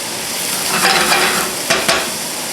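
Vegetables seasoned with thyme sauté in a pan over medium heat, giving a steady close sizzle with a few brief scrapes from stirring.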